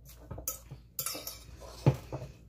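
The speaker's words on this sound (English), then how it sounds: "So I'm just going to give this a stir." A utensil clinks and scrapes against a pot while garlic and basil pasta is stirred, giving a few scattered, soft knocks and one sharper clack in a quiet room, with no talk.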